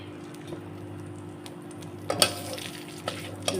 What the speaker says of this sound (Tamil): நல்லா இப்படி ஃப்ரை பண்ணிடலாம்.